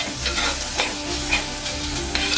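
A thick spice paste for bitter gourd curry sautés over medium flame, a close, steady sizzle and spatter with soft scraping strokes of stirring, brief and continuous with no voice.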